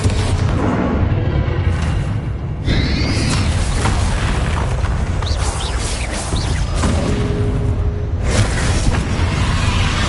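Spell explosions from Confringo and other combat spells in the video game Hogwarts Legacy boom and crackle repeatedly during a dense battle, loud and continuous with bursts layered over rumbling effects.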